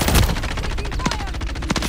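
Dense automatic gunfire in a Call of Duty battle, loud and close, with overlapping rapid shots from several weapons and brief voices mixed into the clamor.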